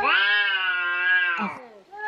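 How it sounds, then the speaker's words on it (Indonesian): Cats fighting, played as a shared media sound: a long, loud, strained yowl holds steady, then breaks into a short growl and begins to rise again, with no one talking over it. "kucing berantem nih"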